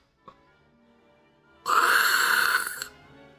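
A person imitating snoring with the voice, a single close, loud, raspy snore-like rattle lasting about a second after a small click and a quiet pause.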